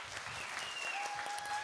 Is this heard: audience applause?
yes